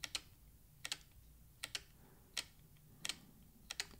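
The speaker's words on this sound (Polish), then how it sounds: "być może teraz słyszysz taki charakterystyczny klik, który może ci przeszkadzać" A Nikon D500's front command dial clicks as the aperture is changed: about eight crisp, close clicks, some in quick pairs and the rest spaced irregularly, over a quiet background.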